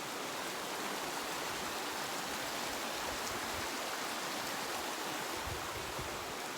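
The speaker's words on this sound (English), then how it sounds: "The creek flowing." A creek flows steadily past wild daisies near a garden, a constant soft rushing hiss of water without pauses or voices.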